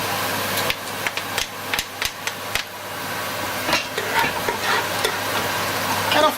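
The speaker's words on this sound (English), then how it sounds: "we're going to give that a quick stir" Garlic and onions sizzle loudly in a pan while a spoon gives them a quick stir, with a run of sharp taps and scrapes at first, then a continuous close frying hiss.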